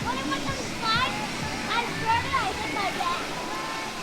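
Water pouring down a sea serpent pool slide at a Disney resort pool, a continuous rushing splash under children's voices and chatter nearby.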